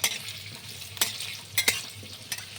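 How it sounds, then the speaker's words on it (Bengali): Potatoes fry in hot white oil in a kadai, a close steady sizzle broken by several sharp scraping stirs of a utensil against the pan, with no talking. "তেলটা গরম হয়ে গেছে আমি আলুগুলো ভেজে নিচ্ছি লালচে করে ভাজবো"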